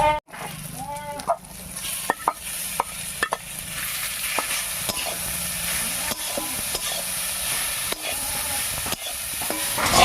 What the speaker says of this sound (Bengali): রসুন আর কাঁচা লঙ্কার সঙ্গে মাছটাও বেশ ভাজা ভাজা হয়ে গেছে এবার নামিয়ে রাখা শাকটা দিব